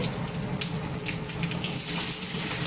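Mustard seeds crackle and sputter in hot oil in a pan, a dense close sizzle with rapid tiny pops running steadily throughout, no speech.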